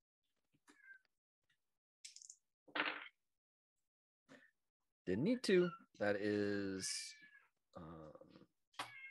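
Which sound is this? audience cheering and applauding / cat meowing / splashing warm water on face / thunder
cat meowing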